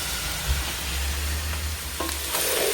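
Vegetable peels fry in a pan with a steady, dense sizzle over a low rumbling undertone, and the frying stays continuous throughout.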